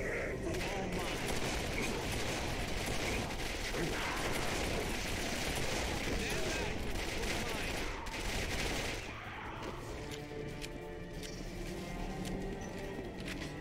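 Dense gunfire in the shooter Quake 4 on PC: rapid, continuous shots and impacts pile up without a break over busy game noise, easing slightly near the end.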